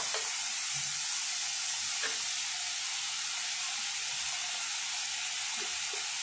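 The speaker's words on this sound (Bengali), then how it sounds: "আদা রসুন দিয়ে একটু ভেজে নিই" Ginger and garlic fry in a pan for chicken with vegetables, a constant bright sizzling hiss with occasional soft stirring taps, close and steady, no voices.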